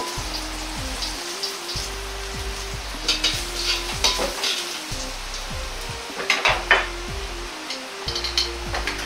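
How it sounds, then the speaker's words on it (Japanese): Steady sizzling and crackling of ginger frying in a hot pan, with occasional louder spatters and stirring scrapes, no voices. "生姜も弱火から炒めていき、だんだん加熱していき、炒め香りを引き出します。"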